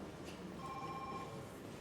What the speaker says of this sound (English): Forgot to silence my damn phone.